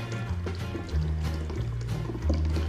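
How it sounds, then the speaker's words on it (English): Blended coconut milk strains through a muslin cloth, a continuous wet pouring and trickling, fairly close and steady, with no talking. "Now strain it with a muslin cloth or a strainer or nutmeg bag."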